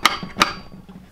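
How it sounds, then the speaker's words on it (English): Two sharp hammer strikes, close and distinct, a short pause apart, each ringing off briefly in a workshop while a fishing lure is being built. "Yep. Hammer."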